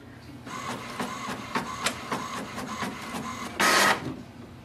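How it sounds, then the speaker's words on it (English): An HP Envy printer runs a page through, a steady mechanical whir broken by regular clicking pulses and ending in a short louder burst as the sheet feeds out, close and clear. "we can see printer has started to print normally"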